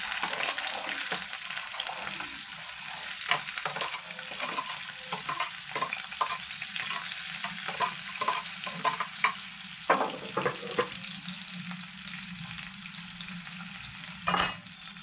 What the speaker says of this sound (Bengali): এবার আমি একে একে সবজিগুলোর মধ্যে দিয়ে দেবো।